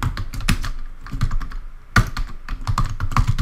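Quick typing on a computer keyboard while entering a comment in a code property file: a dense, fast run of clicking keystrokes with a brief pause near the middle, close and clear with no talking.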